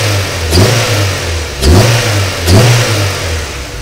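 A Honda Integra Type R (DC2) engine idles, then revs sharply three times, each rise dropping back to a steady idle, loud and close.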